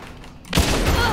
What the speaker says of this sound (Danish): Han skød mig lige i hovedet!